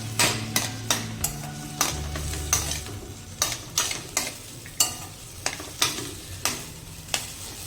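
Potatoes and chopped tomato sizzle gently in a pan for sabudana khichadi while a spoon scrapes and stirs them in a steady, repeated rhythm close by.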